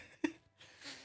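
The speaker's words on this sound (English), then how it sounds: "Sorry if I'm going to be like clearing my throat throughout this whole recording." A single short, sharp throat-clearing burst followed by a soft breathy exhale, close and quiet, with no talk.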